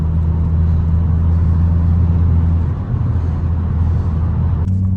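Inside a Volvo S40 T5 driving at night in traffic, a loud steady low engine and road drone hums continuously with little change, no voices present.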